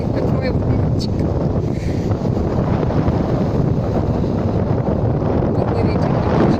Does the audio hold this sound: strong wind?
yes